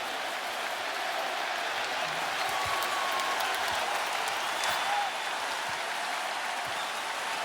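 The crowd roars during overtime of a Cleveland Cavaliers vs New York Knicks playoff basketball game, with a dense, continuous roar of cheering and clapping from a large arena audience and occasional whistles on top.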